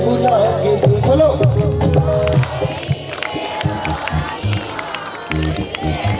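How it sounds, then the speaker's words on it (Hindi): A grandmother clapping along at a Navratri jagran, rhythmic hand claps mixed into a lively group of women singing and chanting devotional lines, with voices talking over the claps. "हमारी अम्मा ताली बजा रही है और बोल भी रही है"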